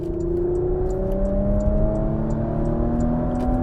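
Engine of a 2021 Porsche Macan GTS, 380 hp, revving steadily toward high rpm, a loud continuous rising drone heard from inside the car with the pitch climbing smoothly throughout.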